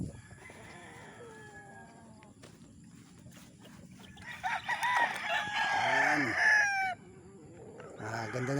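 A rooster crows at moderate distance in the morning, with bird calls and clucking around it and faint background speech, the crow rising loudest near the middle and end.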